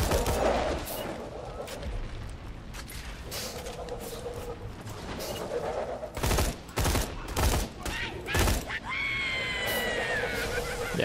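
Borderlands 2 gunfire: bursts of rapid shots and thumping impacts at close range, spaced in clusters, with a game effect sweeping in near the end.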